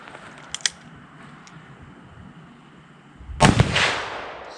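A single loud, close blast from a Ruger Super Blackhawk .44 magnum revolver with a 7.5-inch barrel firing a 180 grain load, ringing briefly after a few small clicks and a quiet lead-in.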